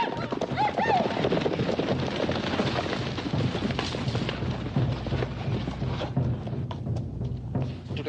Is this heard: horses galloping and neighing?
yes